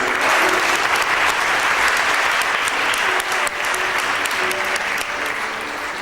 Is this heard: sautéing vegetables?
no